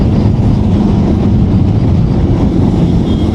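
A Kawasaki Z900 motorcycle riding in the rain, its exhaust a loud, steady, deep rumble that fills the whole stretch without a break, with no voices.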